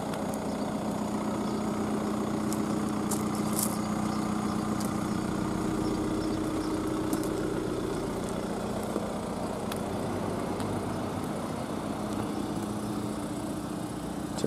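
A BMW 1 Series 120d diesel idles steadily with an even, low clatter, close and constant throughout, with faint ticking on top and no voices.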